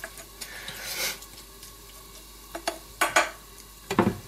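Dry noodles being stir-fried in a hot pan, with scraping and tossing scoops landing in short bursts over a soft steady sizzle, several sharp clatters near the end.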